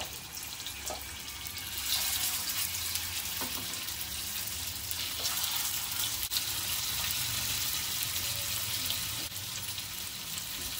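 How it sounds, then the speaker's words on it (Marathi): Hara bhara kebabs frying in a little oil on a hot tawa, a steady hissing sizzle heard close and continuous, with faint clicks, no speech. "आणि कबाब असे तव्यावरती टाकायचे आहे तळायला।"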